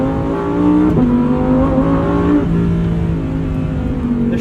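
A 2023 Lamborghini Huracan Tecnica engine revs hard while driving, a loud, steady mechanical roar with rising pitch and a brief dip near one second, heard up close from inside the car with no talking.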